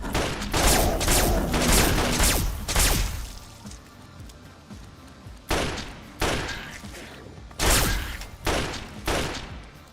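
Bursts of gunfire in Fallout 3, with loud clustered shots at the start, a lull, then several more sharp blasts in an uneven rhythm, close and punchy, with no talking.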